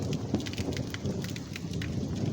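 Steady heavy rain pours down during a thunderstorm, drumming continuously on surfaces near solar panels close by, with dense patter and no voices.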